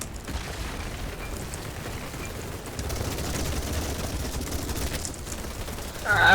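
F2000 rifle fire in BattleBit, a steady stream of rapid gunshots mixed with distant battlefield explosions, fairly loud throughout and swelling at the end.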